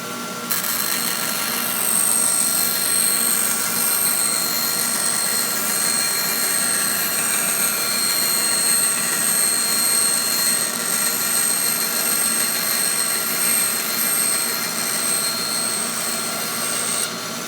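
A band saw running while cutting 1/2 inch material, a steady loud mechanical whine with high tonal ringing that holds constant for the whole stretch after the machine starts.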